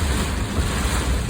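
Strong wind buffets and roars without a break along a country road, with a low rumbling gust noise close to the microphone over a brief steady stretch and no voices.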